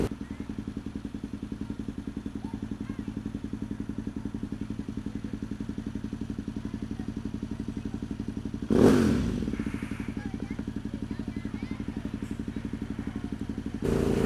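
A motorcycle putters steadily at low revs close by, a constant mid-pitched engine drone with a sudden clattering thump partway through and faint voices underneath.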